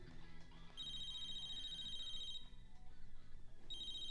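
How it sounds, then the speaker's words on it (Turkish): A telephone ringtone repeats in electronic pulsing bursts, two rings separated by a pause, moderately faint over a low background murmur in an indoor scene from a Turkish comedy. "Rahmetli'nin telefonu çalıyor abi."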